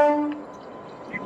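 The Puri 68441 MEMU local train sounds a short, bright horn blast at Jaleswar station, which quickly fades into quiet platform ambience.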